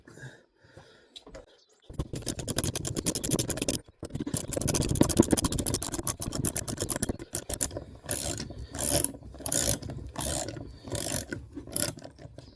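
A JB Weld nut moulded onto a washer is tightened on a bolt, giving loud, close ratcheting clicks and grinding that run in long stretches, then break into separate repeated bursts.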